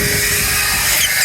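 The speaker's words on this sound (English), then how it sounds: "Bro finna hit it with that drill." A drill used while detailing a car interior after storm damage, a short continuous high whining spin up close and loud throughout.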